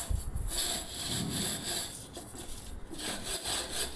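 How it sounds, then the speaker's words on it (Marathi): Burnt milk pot being scrubbed with a dish-soap scrubber, a steady close rasping rub that runs continuously with back-and-forth strokes and no talk. "त्यानंतर भांडी घासण्याचा साबण कात्यावरती घेऊन मी हा टोप घासायला सुरुवात केलेली आहे."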